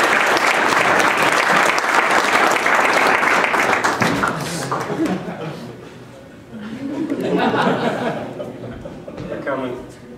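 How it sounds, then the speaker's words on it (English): A banquet crowd applauds loudly for several seconds, then the clapping fades into scattered laughter and voices chatting. "big round of applause for the local businesses"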